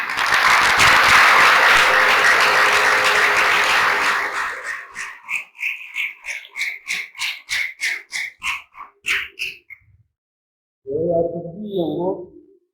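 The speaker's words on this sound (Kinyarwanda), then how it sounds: "Imana amashyi." A church congregation breaks into loud, dense applause for about four seconds. It then shifts into a run of rhythmic claps with short gaps, stops briefly, and ends with a short burst of voices.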